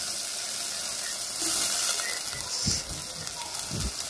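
Water hits frying onions in a pan, the first step of a tengra fish curry. A steady hiss and sizzle runs throughout, with a few soft knocks near the end. Nobody speaks.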